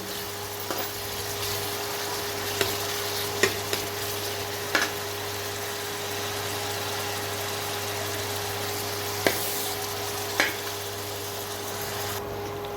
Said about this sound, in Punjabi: ਪਹਿਲਾਂ ਆਪਾਂ ਇਹਨੂੰ ਚੰਗੀ ਤਰ੍ਹਾਂ ਅਦਰਕ ਤੇ ਪਿਆਜ਼ ਜਿਹੜਾ ਸਾਰਾ ਕੁਝ ਨੂੰ ਭੁੰਨ ਲਵਾਂਗੇ